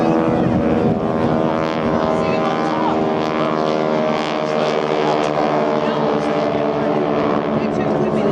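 Propeller display aircraft at the 2014 Clacton-on-Sea air show in Essex, droning steadily and loudly overhead throughout as it dives through its manoeuvres, with a commentator talking over the engine noise.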